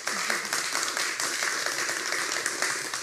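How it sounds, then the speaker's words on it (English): Audience applause at an academic panel session on European academies, a dense, steady patter of many hands clapping throughout, moderately loud with no voices over it. "I would like to ask for a round of applause"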